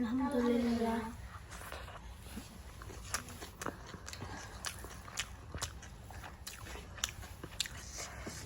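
Shrimp mash (chingri bharta) being eaten by hand, with soft, irregular chewing and crunchy clicks repeating close up after a brief opening voice.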